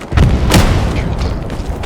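A tank cannon firing in a video game, heard as a couple of loud booming blasts close together near the start, the second sharper, with a rumbling tail and continuous background game noise.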